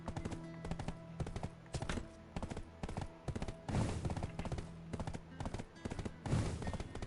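Horse hooves clip-clop in rapid, even rhythm in Black Desert Online on PS5, a close, crisp run of beats that continues throughout at low volume.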